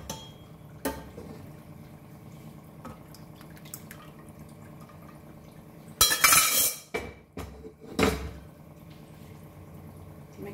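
Metal spoon knocking and scraping in a pot of Goan pork trotters curry, quiet low simmer with a few sharp clanks bunched together midway, no talk.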